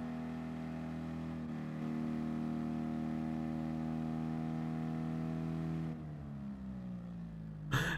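A car engine pulling in second gear and lacking power, a steady droning hum held at constant pitch that drops and shifts lower near the end before a brief noisy burst.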